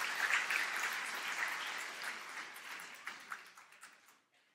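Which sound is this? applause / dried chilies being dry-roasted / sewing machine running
applause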